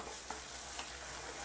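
Besan being roasted and stirred in a pan for besan mawa barfi, with a faint, even sizzle and a couple of soft scraping strokes; no voices.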